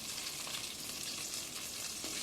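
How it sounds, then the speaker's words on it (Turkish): Meatballs fry in a pan with a steady, bright crackling sizzle that stays even and close throughout the short stretch, with no voices. "Geri kalan köftelerimi de aynı yöntemle kızarttım."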